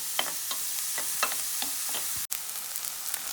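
Seasoning sizzling and frying in a pot for Guyanese saime and eddoes, a steady crackle with periodic stirring scrapes and one short break in the sound.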